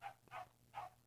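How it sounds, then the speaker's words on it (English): A dog barks three times in a distant, muffled way, with a steady low hum underneath. "if you hear that, that's my dog"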